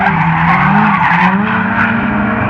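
Drift cars at a Motopark FPDA drifting Top 4 battle skid through a corner, a loud sustained tire squeal layered over roaring engines, close and continuous.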